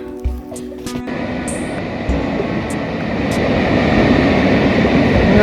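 A loud train rumbles past nearby, heard from an observation deck beneath the Sogeumsan suspension bridge in Wonju, its roar building steadily, with a few sharp clanks and a brief high squeal early on.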